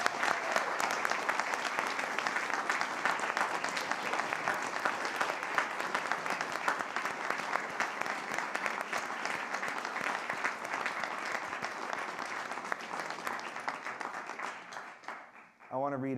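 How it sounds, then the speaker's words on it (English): Sustained applause from a large synagogue congregation, loud and steady for about fifteen seconds before briefly dipping near the end. "Round of applause, first of all."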